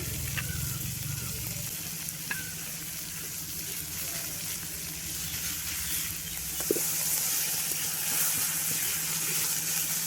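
Capsicum frying in a little oil or butter, a steady close sizzle running through the whole stretch with a few light clinks of utensils and no talking.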